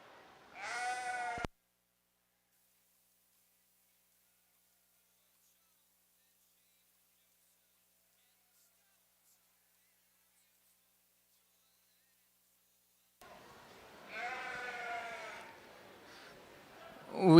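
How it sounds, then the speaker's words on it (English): A sheep at a livestock show at the Kentucky State Fair gives a loud, close bleat, then after a long silence bleats again in a longer wavering call. "Really cool sheep."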